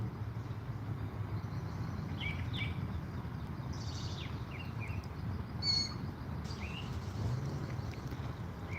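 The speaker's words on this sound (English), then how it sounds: "Do you hear the birds, Savannah? So many birds out here today." Birds sing outdoors among trees, with several short chirps and whistles coming from some distance over a steady low rumble of background noise, and no voices.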